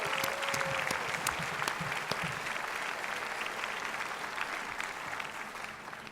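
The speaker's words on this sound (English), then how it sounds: "May I request a big hand of applause for the entire team of Greenwich" A large audience at a university convocation at Greenwich University claps steadily for about six seconds, forming a dense, sustained wash of applause that fades slightly toward the end.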